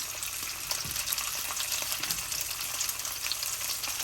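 A beef roast sizzles steadily and close in a hot pan while it browns. A continuous crackling hiss fills the space with no talking.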